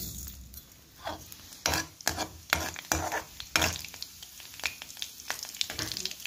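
Cumin seeds hit hot refined oil in a kadai, giving crackling sizzles and bursts of spattering alongside scraping stirs, fairly close and moderately loud, with no talk.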